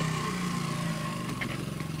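A 1973 Honda SL125 classic motorcycle engine runs close by, a steady buzzing drone with a faint rhythmic pulse lasting about two seconds, no voices.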